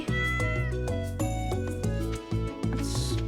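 A cartoonish cat meows clearly and repeatedly in Stardew Valley, loud and close over the game's bright, looping background music.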